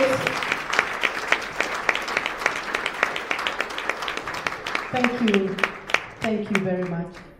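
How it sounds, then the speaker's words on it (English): Conference audience applauding steadily throughout, with dense clapping mixed with cheers and voices rising toward the end. "A bigger clap, a louder one."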